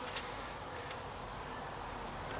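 Honey bees droning steadily during the installation of a package of bees into a hive, a constant, fairly quiet hum with no voices.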